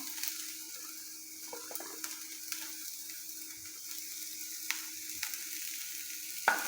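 Carrots fry in a hot pan with a faint, continuous sizzle and a few light clicks and scrapes as they are stirred, with no talking.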